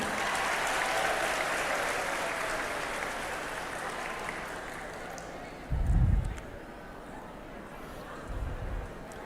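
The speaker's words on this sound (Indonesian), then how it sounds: "Tepuk tangan Pemkab Kelungkung" Applause from an audience of Klungkung regency government staff at an indoor gathering, loud at first and then gradually fading, followed by a couple of dull low thumps.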